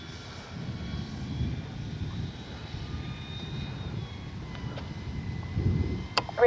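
Dynam F6F Hellcat RC plane flying overhead, a steady distant propeller drone with a faint whine, sustained throughout and swelling slightly near the end.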